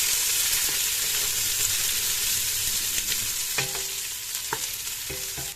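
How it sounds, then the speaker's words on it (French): Two onions frying in hot oil in a pot for Kabyle semolina dumplings, a steady dense sizzle throughout with a few brief stirring knocks near the end. "mon huile est chaude. Je vais prendre mes 2 oignons que je vais verser dans ma marmite"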